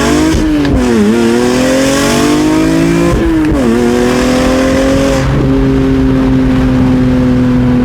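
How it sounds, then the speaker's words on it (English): A BMW E46 M3 with a Valvetronic exhaust pulls hard in first gear with stability control off, loud close engine revs climbing, dipping at shifts and climbing again. "let's get one more first gear pull"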